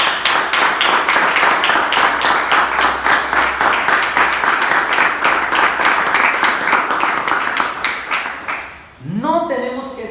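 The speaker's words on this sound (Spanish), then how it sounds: "Dale ese aplauso al Señor por esto" A church congregation claps and applauds loudly and steadily for about nine seconds with a rhythmic beat; the applause then fades and a voice begins speaking.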